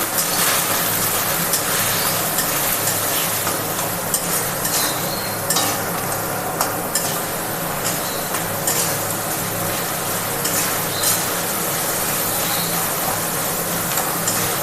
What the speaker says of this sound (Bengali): কাশ্মীরি লঙ্কা গুঁড়ো মশলাটা আমি কষিয়ে নেবো